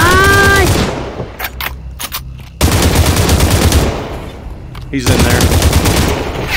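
Rapid Uzi gunfire in the VR shooter Population: One, loud bursts repeating through the clip with short gaps, while a voice speaks briefly at the start.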